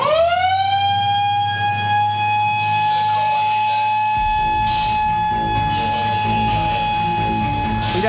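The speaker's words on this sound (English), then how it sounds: "we may have to put the shark alarm on to clear the water. Worst case, put the siren on and get them out" Beach shark alarm siren sounding loudly to clear swimmers from the water, a steady sustained wailing tone running throughout with faint background voices and beach noise beneath.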